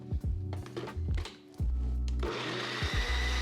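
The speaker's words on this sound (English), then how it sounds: "Okay, blend this for 10 seconds now." A blender whirs in short bursts while blending a no-bake keto cheesecake mixture, then runs loud and steady for a couple of seconds, its motor pitch shifting as it spins.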